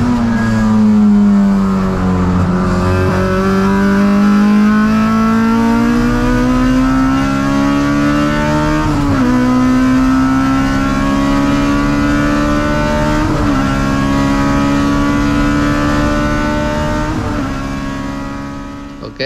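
A race car engine in an endurance race at the Sepang circuit drones loud and close from onboard, its pitch climbing and dipping through gear changes and braking, continuous and without talk.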